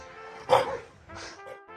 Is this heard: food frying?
no